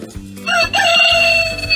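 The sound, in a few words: rooster crowing alarm clock sound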